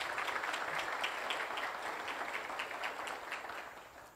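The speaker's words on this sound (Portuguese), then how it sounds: "uma salva de palmas aí para o Edivar." A crowd claps steadily, a dense patter of many hands that holds for a few seconds and then begins to fade.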